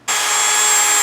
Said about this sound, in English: we're going to just sand out all of those little grooves and gashes that were made from the 60 grit wheel